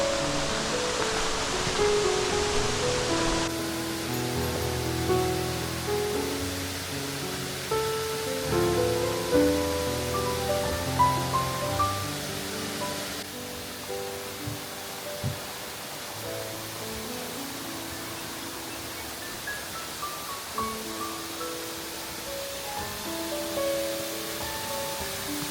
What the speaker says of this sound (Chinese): 南垄与女垄是中山道上一对极有灵气的瀑布。